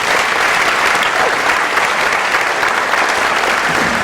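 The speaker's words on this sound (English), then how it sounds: "Let's give her a round of applause." A round of applause for the mayor, a dense, loud and even crowd clapping that fills the whole stretch without pause.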